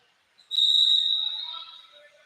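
A referee's whistle at a high school girls' basketball game: one sharp, shrill blast, close and loud, that holds for about a second and then fades out.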